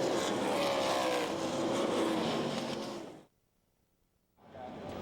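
Sprint race cars roaring around the Knoxville Nationals dirt track, a loud sustained engine drone that fades abruptly into near silence before rising again.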